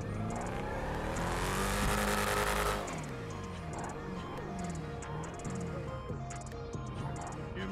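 A modified car of about 1,500 horsepower in GTA 5 revs hard in a loud burst of engine roar that fades into a lower running drone with faint tire noise, while a voice talks.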